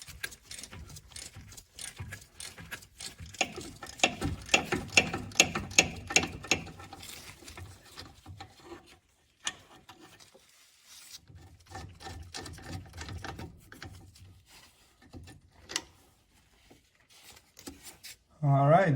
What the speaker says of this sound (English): with the right combination of sockets and extensions,